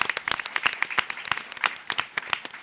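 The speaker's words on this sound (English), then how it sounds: "Can we give him a warm welcome of applause?" A small audience at a women's networking event applauds to welcome a speaker, irregular overlapping hand claps of moderate loudness with no talk over them.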